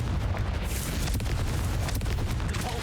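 A Confringo fire spell blasts in Hogwarts Legacy, a loud, dense explosive roar that rumbles steadily through the whole stretch with a brighter burst partway in and no talk over it.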